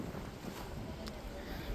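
Strong gusty wind roars steadily into the microphone outdoors during a sudden windstorm in a village. It is a dense, constant buffeting rush that stays loud throughout, with no clear pauses between gusts.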